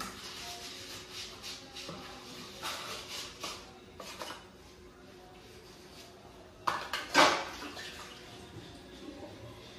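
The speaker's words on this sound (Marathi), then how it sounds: "चहाची भांडी वगैरे सकाळची नाश्ता घासून घेते." Tea dishes and breakfast utensils are scrubbed and rinsed at a home sink: intermittent running water and soft clinks of pots and cups, ending in a louder clatter, all at moderate distance.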